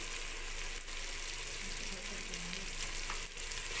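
Green chillies fry in hot oil with cumin, cinnamon and black pepper, giving a steady, dense sizzle throughout with a faint voice briefly in the background.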